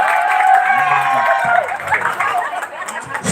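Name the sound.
audience applause for karaoke contestant Bang Bondan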